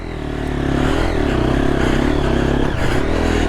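A Triumph TF250E motorcycle engine lugs at low revs in the Australian bush, a loud, close, throaty rumble with uneven chugging and a brief dip before it pulls again.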